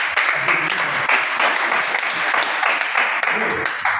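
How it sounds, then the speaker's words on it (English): A small workshop audience at a chess academy applauds a participant, brisk close clapping that runs continuously for a few seconds with some voices mixed in. "So let's give him a round of applause."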